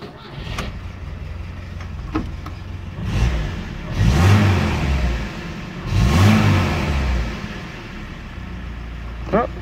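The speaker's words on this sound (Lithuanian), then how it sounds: "toksai tradicinis žigulinis garsiukas" A Lada Zhiguli car with a welded exhaust, its engine idling with a low rumble then revving twice in strong rising and falling surges, close and loud, with a few clicks in between.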